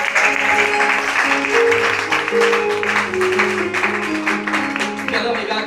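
A congregation applauds at a school harvest festival, a dense, loud, sustained clapping under music and a voice throughout.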